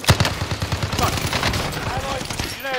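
Rapid bursts of gunfire in the Call of Duty Modern Warfare video game, rattling fast and loud through a short firefight, with shouted team voices mixed into the din.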